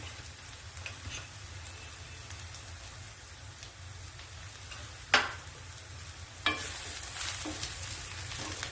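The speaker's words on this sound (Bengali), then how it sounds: "এবার বেসনটাকে এর সঙ্গে খুব ভালো করে কিন্তু ভেজে নিতে হবে।" Gram flour fries with onion stalks in a pan, a soft steady sizzle over low hum, broken by a sharp scrape or clank midway and a louder burst of crackling afterward; no one speaks.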